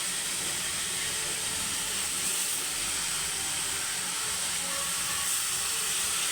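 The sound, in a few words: chopped tomatoes added to hot pan for rasam, sizzling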